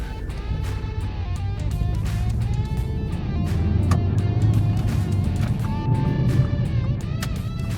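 A Copart Audi TT drives on a road, steady engine and tyre drone filling the whole stretch with a continuous low rumble and rising whine, heard from inside, no talking.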